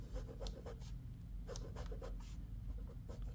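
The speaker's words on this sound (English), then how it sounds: "I'm doing a rough sketch." A pen sketches a rough square on paper, giving soft, quiet scratchy strokes in short bursts separated by brief pauses, close to the microphone with no talking.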